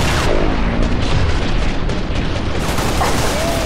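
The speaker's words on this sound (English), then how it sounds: "So a plasma launcher shot right through the guy's legs as he was walking at me." A plasma launcher shot in Halo Reach rings out amid continuous loud gunfire and booming multiplayer combat noise, dense and sustained throughout, with a faint swooping tone near the end.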